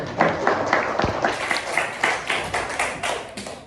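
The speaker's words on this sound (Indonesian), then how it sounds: "Ya, aplaus untuk semuanya." A small group in a teacher-training classroom at UIN Gus Dur claps for the presenting groups, with distinct, rhythmic hand claps at close range that keep a quick, even beat and gradually soften.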